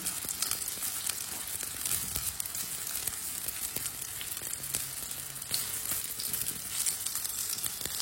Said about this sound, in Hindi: दो मिनट के लिए ये वाली साइड से भी पकने देते हैं।